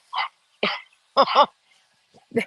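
A dog gives a few short, sharp barks and yips as it is picked up outdoors in the country, with gaps of quiet between the bursts.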